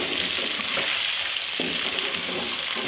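Chicken frying in a pan with ginger, a steady, close sizzle broken by occasional soft stirring scrapes, alone with no voices.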